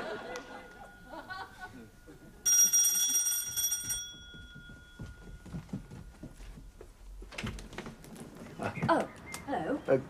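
A doorbell gives a bright, ringing electronic chime for about a second and a half in a sitcom home, set among footsteps and people talking.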